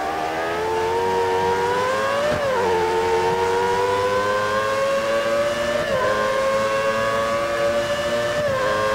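A 1990s classic F1 race car engine in F1 2013 holds a loud, steady high-pitched whine, dipping briefly at gear shifts around the Australia circuit, with no talk.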